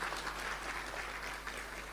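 A lecture audience claps at a Sunday feast talk, a faint, steady patter of many hands with a low hum underneath.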